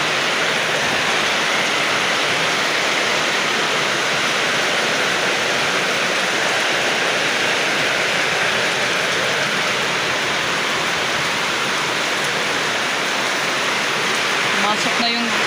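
Heavy storm rain with strong wind pours down as a dense, unbroken roar at a school in Tres Marias, loud and close throughout with no break.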